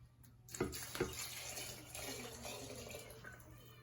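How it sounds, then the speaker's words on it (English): Beet pickling liquid poured into a jar of eggs, a soft, steady trickling splash with a couple of faint knocks at the start, quiet and close. "Now you want to pour your pickle stuff in there."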